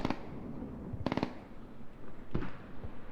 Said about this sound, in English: Mortars coming down inside.